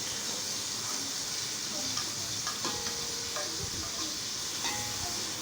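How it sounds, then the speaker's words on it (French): Vegetables (parsley, bell pepper, tomato, chili and carrot) sizzle and fry steadily in hot oil while being stirred, with a dense, continuous crackle and occasional scraping from the stirring. "On va tourner, que ça mijote un peu bien dans l'huile"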